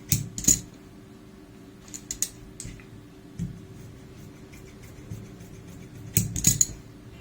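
Scissors cut through extra cloth while a kurti collar is being trimmed, giving a few sharp, close snips spaced apart over a faint steady hum, with no voices.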